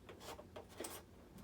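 A hobby blade slicing an angled cut into a foam model F-15 jet, heard as faint, close scratchy rubbing strokes repeating in short bursts.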